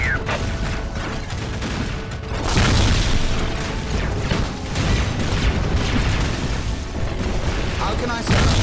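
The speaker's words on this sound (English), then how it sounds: "Whirlwind artillery tank here." A Whirlwind artillery tank fires in the Dawn of War strategy game. Heavy booms and mechanical clatter keep the sound dense and loud throughout, and game unit voices speak over it.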